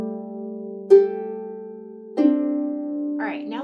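A harp plays two notes together with both hands, a low sustained pair and then fresh plucks about a second apart, ringing softly and close in a quiet room.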